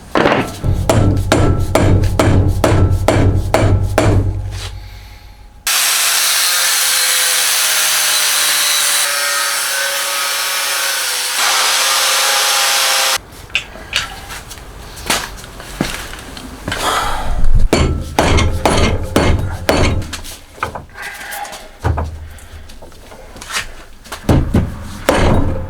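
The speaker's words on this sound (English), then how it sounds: "Tap that in with your nicely mangled up socket that you hopefully got at a thrift store like this one." Hammer tapping a seal into place with an old mangled socket during a Toyota Tacoma transmission repair: bursts of rapid sharp metallic taps, a long stretch of hissing noise in between, then more irregular close hammer strikes.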